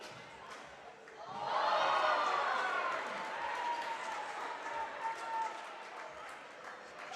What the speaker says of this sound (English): the crowd responding to their hometown hero